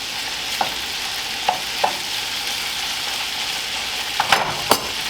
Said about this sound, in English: you should hear a sizzle when you put it in